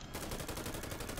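Police gunfire in the video game GTA 5, a dense burst of rapid shots that fills the whole moment loudly with no pause.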